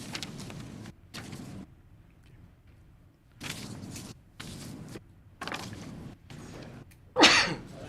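A single sharp sneeze bursts out near the end during a school building committee meeting, set against intermittent room noise and shuffling with no clear speech around it.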